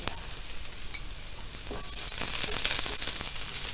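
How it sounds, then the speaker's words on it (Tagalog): Ginger, onion and garlic sautéing in oil in a pan, a steady close sizzle with crackling bursts that swell louder toward the end, with occasional stirring scrapes and no talk. "igigisa natin guys itong ating luya. Pagkatapos itong ating sibuyas. Sasabay ko na rin itong ating bawang."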